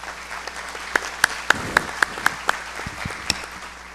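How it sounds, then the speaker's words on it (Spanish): Sparse, scattered clapping from a small conference audience greets a panel speaker, a handful of distinct claps ringing over a quiet room hum before tapering off. "Recibamos pues con un caluroso aplauso a Mónica."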